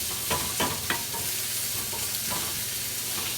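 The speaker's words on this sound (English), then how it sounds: "We'll give this a little bit of a stir." Vegetables (peppers, mushrooms and potatoes) sizzle steadily in a frying pan for a breakfast frittata, with a few close scraping stirs near the start over the continuous hiss.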